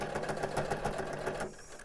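Sewing machine running a lengthened, slowed stitch across a throw pillow seam, a steady rhythmic whirring and needle chatter that carries close and even before cutting off near the end.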